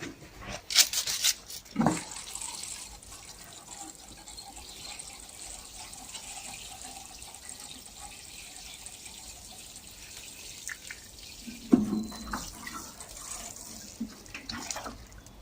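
Water runs steadily from a garden tap for several seconds, a soft continuous splash with a few louder knocks and drips at the start and near the end; no one speaks.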